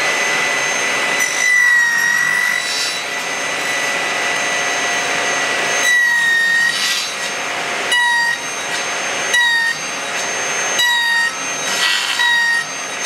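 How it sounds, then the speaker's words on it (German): A saw blade cuts wooden parts for a mechanical children's marble run in a run of about five loud, close passes, each with a rising whine, and no talking. "Mein Sägeblatt stelle ich mir quasi auf die Höhe ein"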